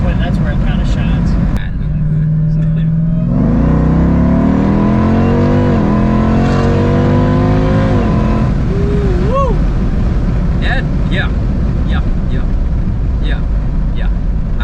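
A 1000 HP Jeep Trackhawk idles, then accelerates hard with rising engine pitch through several gear changes, loud and close from inside, before easing off; voices talk over it.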